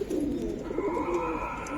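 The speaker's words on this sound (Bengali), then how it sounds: "খুবই সুন্দর একটা মাদি কবুতর" Female Giribaz coloring pigeon giving a low, soft rolling coo nearby, continuous and fairly quiet, with no talk over it.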